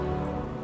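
Rain falls at night in Batman Arkham Knight, a steady close patter of drops on surfaces, even and continuous through the short moment.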